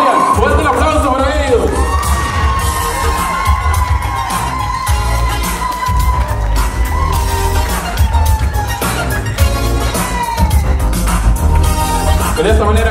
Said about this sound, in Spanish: fuerte el aplauso para